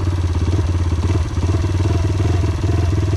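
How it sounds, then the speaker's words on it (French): A motorcycle engine idles steadily up close at a very low idle speed, a low, uneven throbbing pulse with rattly mechanical clatter throughout. "Là le ralenti est vachement bas, je vais le remonter un peu."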